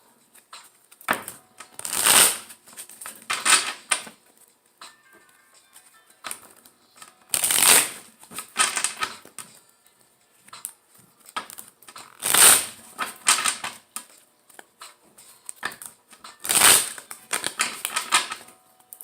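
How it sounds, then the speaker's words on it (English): Tarot cards being shuffled at close range: repeated riffling bursts come in clusters every few seconds, each with a sharp snap, and soft handling rustles fill the gaps. "All right, one more shuffle"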